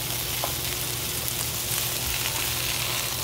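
Longaniza sausage pieces frying in a pan for a potato dish, a steady close sizzle with dense crackle running throughout.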